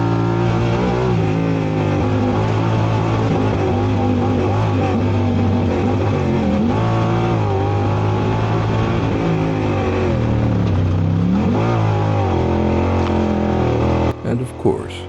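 A side-by-side race vehicle's engine droning steadily at high revs through a full lap of a 12-hour endurance race, loud and close throughout with shifting pitch, ending in a brief burst of clatter.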